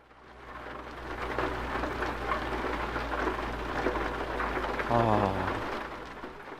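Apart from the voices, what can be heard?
rain in video game Euro Truck Simulator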